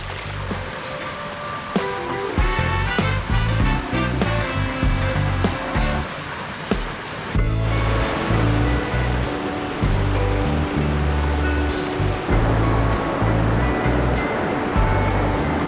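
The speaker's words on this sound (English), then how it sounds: "The creeks are really flowing." Creeks swollen with early spring runoff in the Adirondacks rush loudly and continuously, a dense, unbroken roar of flowing water with no voices.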